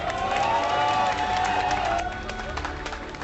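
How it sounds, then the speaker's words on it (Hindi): At a Mumbai iftar party, a crowd breaks into cheering and clapping, a noisy swell of voices and applause that is loudest early and then eases slightly toward the end. "वहां मौजूद लोगों ने जमकर तालियां बजाई"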